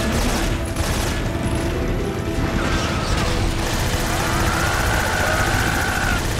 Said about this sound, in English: Yeah, I'm just shooting.